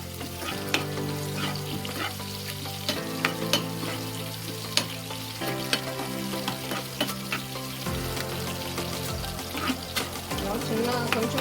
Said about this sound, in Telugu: తాలింపు గింజలు, ఉల్లిపాయలు వేసాను